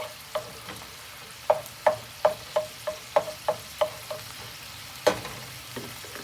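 Onions sweating in a pan, stirred with a utensil that scrapes and taps in a steady run of about a dozen sharp strokes, close and clear over a faint low sizzle, no talk.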